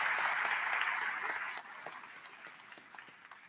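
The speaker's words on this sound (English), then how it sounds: "Please give your educators a big round of applause." A graduation audience at Fairport's 2022 ceremony applauds the educators, a dense patter of many hands heard from a distance that thins and fades after a couple of seconds.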